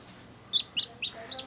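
A newly hatched chick gives four thin, high peeps at a steady, even pace, close and fairly soft, with no voices over them.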